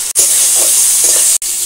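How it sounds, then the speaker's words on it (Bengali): Dried chilli, nigella seeds, crushed garlic, crushed ginger and chopped onion sizzle in hot mustard oil in a wok, a steady close hiss broken by two brief pauses. "কড়াইয়ের মধ্যে সর্ষের তেল দিয়ে দিচ্ছি শুকনো লঙ্কা, কালা জিরে, রসুন থেঁতো করা, আদা থেঁতো, পেঁয়াজ কুচি"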